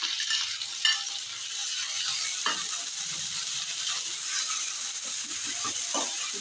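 Onion paste, green chilli paste and ginger paste frying in a pan for a fish egg curry, giving a steady, close hiss of sizzling oil with occasional soft stirring scrapes and no voices.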